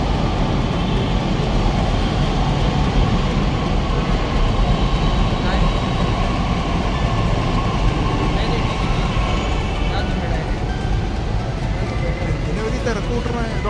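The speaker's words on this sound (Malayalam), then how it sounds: "എന്തായാലും നമുക്ക് പോകാനുള്ള അടുത്ത മെട്രോ വരുന്നുണ്ട്." An elevated Pune metro train pulls into the station with a loud, steady rumble and electric whine, heard up close on the platform while people talk nearby.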